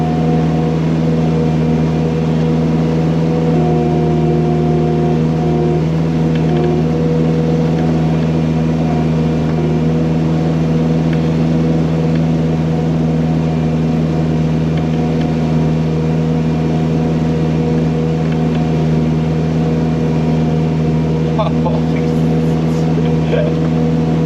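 Bobcat with a snow blade pushing through deep snow, its engine droning loud and steady close by with strong tonal hum, and a faint voice now and then under the noise.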